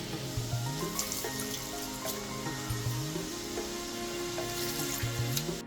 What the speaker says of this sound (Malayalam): അപ്പതെ ദേ വിനാഗിരി നല്ലപോലെ തിളയ്ക്കുന്നുണ്ട് കേട്ടോ